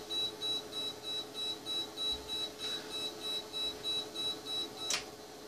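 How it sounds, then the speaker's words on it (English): A UPS warning beep repeats at a quick, regular rhythm, a thin high tone pulsing steadily, fairly faint, with a sharp click near the end. "I just disconnected that annoying beeping sound from the UPS."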